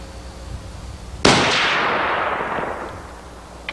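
A Weatherby rifle fired from a shooting bench: one sharp, loud gunshot cracks out, then a long rumbling echo slowly fades. The shot stands alone, with no talking.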